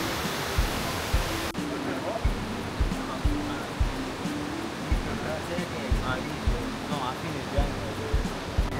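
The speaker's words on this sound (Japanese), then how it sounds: "真ん中に川が流れているので、このせせらぎの音がすごい癒されます" A steady rushing of a river stream at night in the town below Machu Picchu fills the clip, with soft rhythmic thumps underneath and faint talk in the background.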